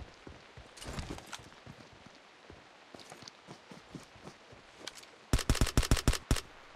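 Vector gun fire in the PUBG Mobile video game: scattered faint pops early on, then a loud rapid burst of about nine close shots near the end.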